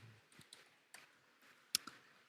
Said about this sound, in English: I'm typing this with one hand